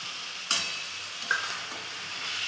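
Boiled banana flower and fried prawns are stirred into cooked spices in a pan, a soft steady sizzle broken by a few scraping spoon strokes.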